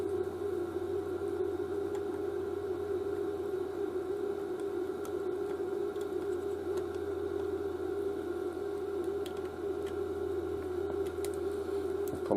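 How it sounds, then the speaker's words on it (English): A desoldering tool runs in a repair workshop, a steady droning hum with a constant mid-pitched whine that continues without pause throughout, faint and alone with no talking. "Apologies for the noise in the background too, that's the desolderer, Cody's best friend in the workshop."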